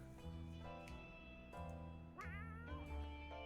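A cat in 60 Seconds! Re-Atomized gives several clear, close meows, the last rising into a drawn-out, wavering cry, over a low background tone.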